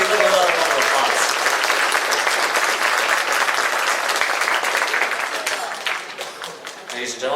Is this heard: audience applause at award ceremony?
yes